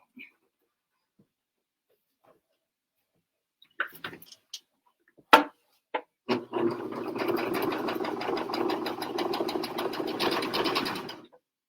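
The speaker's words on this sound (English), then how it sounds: "We're going to stitch to the right side of the fabric." A PFAFF sewing machine stitches fabric in a steady, rapid mechanical whir lasting several seconds, loud and close. A few clicks and taps come first, and the stitching runs alone without talk.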